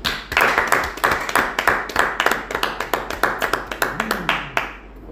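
A church congregation claps in a loose rhythm, a run of sharp hand claps close by that slows and thins toward the end.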